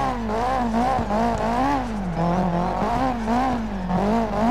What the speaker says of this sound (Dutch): vind het niet erg dat deze auto allemaal geluid heeft.